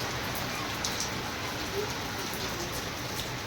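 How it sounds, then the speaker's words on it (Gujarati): Steady rain falling and pattering on surfaces, a constant close hiss with scattered drop taps. "વરસાદ આવે એવું છે"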